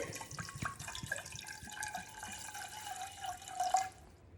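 Tap water fills a cooking pot before boiling, a trickling, splashing stream whose pitch rises as the pot fills, close by and alone without speech.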